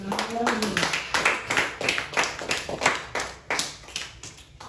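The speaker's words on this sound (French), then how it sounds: "Est-ce que nous pouvons acclamer pour le Seigneur?" A congregation at a Sunday church service claps in a regular rhythmic beat, each clap distinct and moderately close, with a voice briefly heard at the start.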